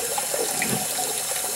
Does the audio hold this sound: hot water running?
yes